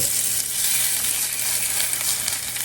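Potatoes frying until crispy in a pan give a loud, constant close sizzle that fills the clip, with faint stirring or scraping as they are flipped and no voice.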